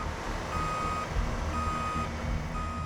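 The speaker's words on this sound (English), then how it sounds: "Then Dylan has to back his truck closer to the edge." A tow truck reverses toward the edge of a bridge during a highway recovery, its backup alarm beeping in a steady, evenly spaced rhythm over a low diesel engine rumble.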